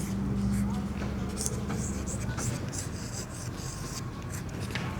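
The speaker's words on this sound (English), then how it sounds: "Let me write it down." Pen or chalk scratching by hand in a short run of quick strokes, faint and close, with a steady low hum underneath and no talk over it.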